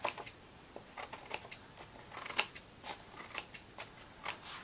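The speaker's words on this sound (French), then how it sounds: "On va couper parce que ma lame, elle coupe très mal." Blade slicing through card on a cutting mat, a string of short, crisp snips and scrapes at an uneven pace, close and fairly quiet with no talking.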